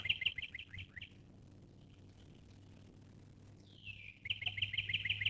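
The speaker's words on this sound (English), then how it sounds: "a little cardinal singing its little heart out" A northern cardinal sings outdoors, giving rapid runs of bright, repeated whistled chirps in two bursts, clear and fairly close, with a gentle steady hum beneath and no voices.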